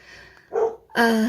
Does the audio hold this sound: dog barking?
yes